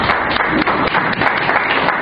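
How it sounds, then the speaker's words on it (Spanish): A church congregation applauds a welcome during a worship service, a dense, steady wash of many hands clapping that fills the whole stretch with only brief dips. "Démosles un fuerte aplauso de bienvenida a este lugar"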